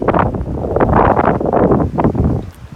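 Strong wind gusting across the microphone at a woodland sawmill shelter build site, a loud continuous rumbling roar with surging gusts that eases off near the end.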